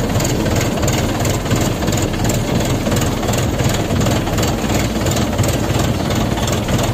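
A tractor engine labours while ploughing a village field, a loud, close, steady low rumble with rapid rhythmic knocking throughout and no speech.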